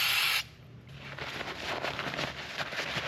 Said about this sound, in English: Same thing, just spray it with a little brake clean.